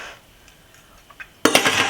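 Fork scraping through tender lamb in an Instant Pot: quiet light taps, then a sudden louder burst of metallic scraping against the pot near the end, close up.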